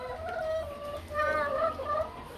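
Brown laying hens cluck and murmur softly close by on a farm, with low, wavering calls rising and falling over a steady background hum.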